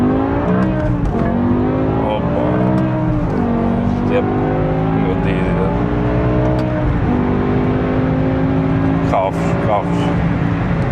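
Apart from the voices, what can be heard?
BMW E60 M5 V10 engine roaring and revving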